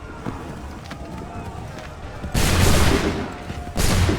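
A musket volley from soldiers in Assassin's Creed 3 erupts as a loud, dense crackle of many shots at once, then a second burst follows after a short pause, over a steady battlefield bed with some voices.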